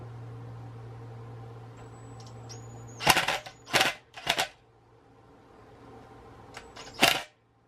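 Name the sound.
impact gun on Sur Ron swing arm bearing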